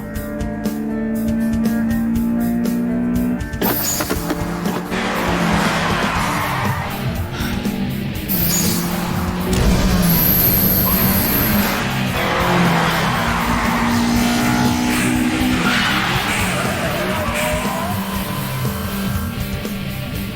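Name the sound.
Toyota Levin race car engine revving, anime racing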